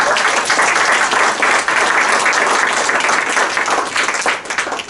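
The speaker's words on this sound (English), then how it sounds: "So I would really like you to give a very warm round of applause." A warm round of audience applause at a talk on Pakistan and its women singers: sustained, dense clapping from a full room, loud and even, fading slightly toward the end.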